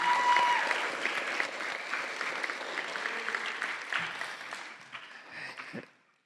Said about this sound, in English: can we give a round of applause to all the young people that came up here?